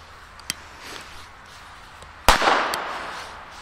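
Chinese firecrackers going off outdoors: a small pop first, then one loud, sharp blast that leaves a lingering crackle and rumble, with no talking.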